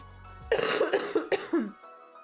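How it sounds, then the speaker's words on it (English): A single deep, chesty cough breaks into several rough bursts in quick succession, close and loud, with no talking, from a deep-seated cough. "It's kind of a deep-seated cough too"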